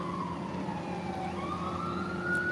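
A siren wails in the distance, its tone slowly sliding down and then climbing again over a low rumble of traffic.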